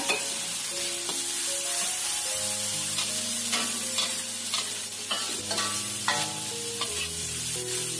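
Carrots and peas sizzle and are stirred in a hot pan for fried rice, a steady crackling fry with scraping spatula strokes, close and continuous with no talk.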